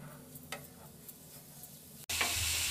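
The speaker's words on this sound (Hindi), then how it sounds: "अब इसमें हम जो कद्दूकस करके गाजर रखे थे उसे भी हम इसमें डाल देंगे।" Grated carrot is stirred in melted ghee in a pan, with soft scraping and faint sizzling, then a sudden louder rush of sizzle near the end.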